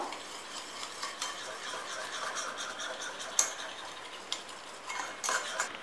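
Cake batter of curd, baking powder and baking soda being whisked in a bowl, giving a steady, close scraping and tapping with a few sharper clinks, no talk.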